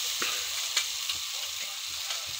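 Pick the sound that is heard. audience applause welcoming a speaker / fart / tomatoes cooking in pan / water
tomatoes cooking in pan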